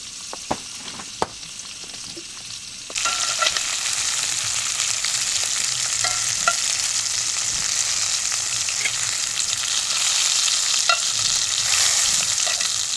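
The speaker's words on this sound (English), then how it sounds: "the second batch of chicken on the pan with butter" Chicken pieces frying in butter in a pan over an outdoor riverside campfire, a steady loud sizzle starting abruptly and continuing unbroken, with occasional pops and crackles near the mic.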